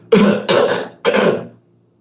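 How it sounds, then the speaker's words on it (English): Three harsh coughs in quick succession, loud and close, then silence. "you gonna cough like that"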